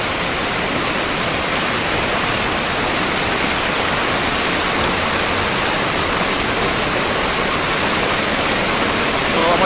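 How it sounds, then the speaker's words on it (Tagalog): Kasili Falls in Negros roars with a dense, steady rush of falling water that fills the whole scene evenly, with a voice faintly present beneath the noise. "So, amo na ni ang ginatawag nila nga Kasili Falls guys."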